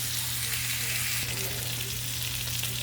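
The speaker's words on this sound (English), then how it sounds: "So I'm going to go ahead and let it sear on this side, okay?" Steak sears in a pot with a steady, close hiss of frying that holds at an even level throughout, with a low constant hum beneath and no talking.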